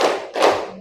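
Students clap in unison as part of a classroom clapping chant for morning, noon and night: two broad, close claps with a short gap between them.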